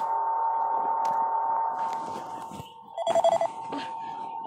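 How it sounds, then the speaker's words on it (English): A telephone rings on the line after a call is placed, a steady electronic ring tone holding for a couple of seconds and then sounding again in short pulsing bursts. "let me call Kara on my other phone"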